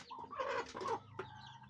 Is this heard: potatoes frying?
no